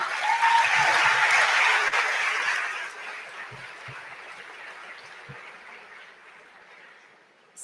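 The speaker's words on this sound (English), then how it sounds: "So let's give all of them a round of applause as well." Audience applause at a fall university commencement ceremony in Hilo, Hawaii: a loud, dense wash of many clapping hands that gradually fades and thins out toward the end, with no talking.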